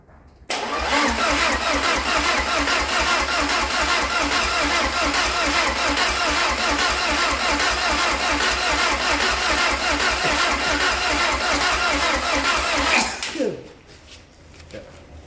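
A rebuilt 1.8 20-valve turbo engine is cranked over by its starter, a loud, steady rhythmic churning that runs unbroken for about twelve seconds before cutting off abruptly.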